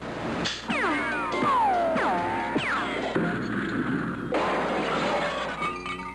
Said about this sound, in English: It looks like I broke another windshield.